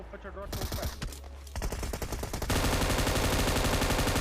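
Gunfire in a battle royale video game: scattered single shots, then rapid bursts that build into loud, sustained automatic fire toward the end.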